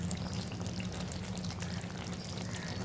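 Soybean kofta gravy left to boil in a pan, giving a constant soft bubbling and sizzling wash that holds steady throughout at a moderate, close level.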